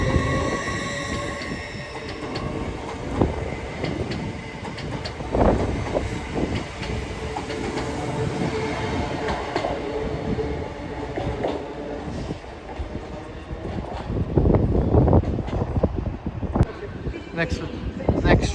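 A Lumo passenger train bound for Glasgow Queen Street rolls steadily through Newcastle station at moderate distance, wheels clattering and squealing over the rails, with faint voices in the background.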